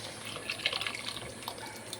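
Water is poured into a cooking pot of vegetable bath mixture, giving a steady, close splashing rush that lasts throughout with a few small surges and no voices.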